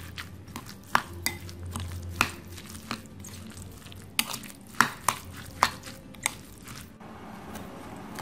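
Chopped white and purple onions are mixed as a dumpling filling, giving a string of close, wet squishing and clacking strokes at an uneven pace over a quiet background, with no talking.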